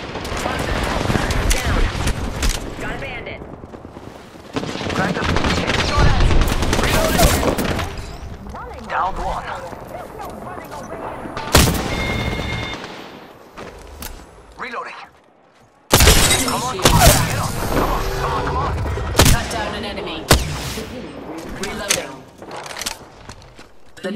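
Gunfire and shattering impacts from the battle royale shooter game Apex Legends, with dense bursts of shots and crashes, and voice lines spoken over the loud chaotic action.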